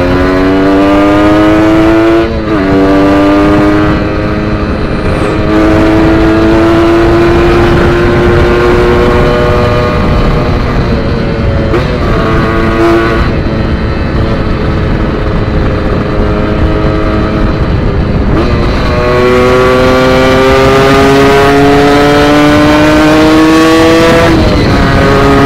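A two-stroke motorcycle running on racing two-stroke oil roars loudly and close throughout, its engine pitch rising through repeated gear shifts as it accelerates on a road test.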